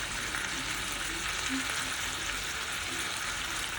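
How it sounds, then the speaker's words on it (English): A stir fry seasoned with teriyaki, chili powder and garlic powder, sizzling evenly and close in the pan with faint stirring movement. "Just stir fry."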